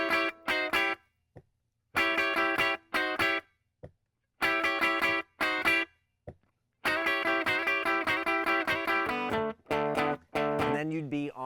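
Electric blues guitar plays an intro built on an A dominant 7 chord shape, in short distorted strummed bursts and licks with brief gaps, ending in a bent, wavering phrase; no talking.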